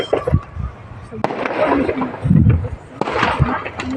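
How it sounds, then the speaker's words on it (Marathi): Firecrackers burst repeatedly at a village wedding, sharp cracks and rumbling pops coming in clusters under steady crowd noise and voices. "छान फटाके वाजायला लागलेत"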